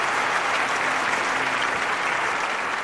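Crowd applause at a weightlifting event in the London 2012 Olympics Xbox game, a steady, dense wash of clapping from a large stadium audience, sustained and even throughout.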